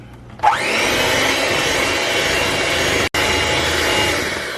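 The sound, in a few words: mixer mixing Oreo cheesecake batter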